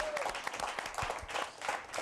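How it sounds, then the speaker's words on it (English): Faint studio audience applause during a talk show interview, a brief spell of scattered clapping at low level. "Give yourself a round of applause."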